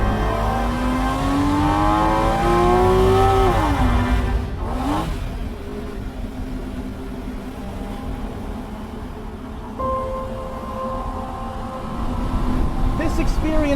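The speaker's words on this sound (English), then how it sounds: "the exhaust wails and the intake growls as you click with" A Porsche Boxster 981 accelerates hard, its exhaust wailing and intake growling as engine pitch climbs steadily, dips sharply at a gear change around the fourth second, then pulls again at a lower, steadier drone, close and loud.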